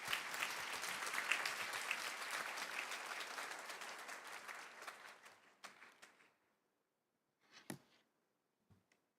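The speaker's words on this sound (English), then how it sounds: "why don't you welcome her with a big round of applause?" Dense applause from a conference audience welcoming a speaker at a Seoul event builds and holds, then dies away abruptly into silence broken by a couple of stray, isolated claps.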